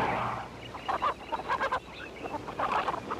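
Chickens cluck in a short series of soft, irregular calls at moderate distance over a faint background hum.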